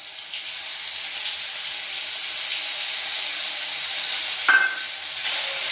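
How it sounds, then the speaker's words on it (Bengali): Ginger garlic paste sizzles steadily in hot mustard oil, a constant frying hiss with a short clatter near the end. "আদা রসুন বাটাগুলো পুরোটাই এখানে দিয়ে দিতে হবে তেলে, সর্ষে তেল দিয়ে।"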